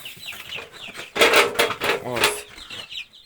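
Young chicks of about 150 grams peep in quick high chirps, partly covered by a burst of rustling and flapping in the middle.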